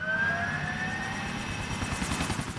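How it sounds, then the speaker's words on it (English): A video-game helicopter in GTA: The Ballad of Gay Tony whirs with rotor chop and a whining turbine tone, steady and fairly loud, the blade pulses becoming more distinct toward the end. "let's go ahead and hop into the chopper"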